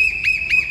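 A whistle blown close and loud, holding a steady shrill tone with two sharper swelling blasts in under a second. No one speaks.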